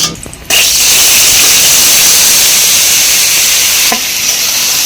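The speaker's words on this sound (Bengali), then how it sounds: "এখন আমি কড়াইয়ের মধ্যে সরষের তেল দিয়ে দেবো এঁচুড়টাকে ভাজার জন্য" Green jackfruit pieces hit hot mustard oil in a wok with a little salt, bursting into a loud, dense, continuous sizzle that holds steady.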